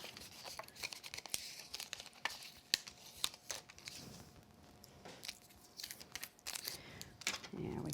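Butterflies pop out and tape peels back while an alcohol ink background is being crafted, making soft crinkles, small snaps and tearing rustles in a quiet room, scattered irregularly across the clip.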